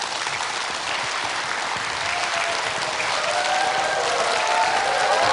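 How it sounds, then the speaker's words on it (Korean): A studio audience breaks into steady, loud applause to welcome a lecturer onto the stage at a televised talk on character education, the clapping dense and sustained throughout with a few faint whistles rising near the end. "여러분 큰 박수로 환영해 주십시오"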